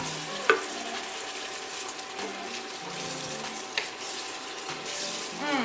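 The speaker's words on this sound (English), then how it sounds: "put the ground garlic and ginger paste. Put all of it and stir" Garlic and ginger paste frying and sizzling in a pan while being stirred, a steady close hiss with a couple of sharp utensil clicks against the pan.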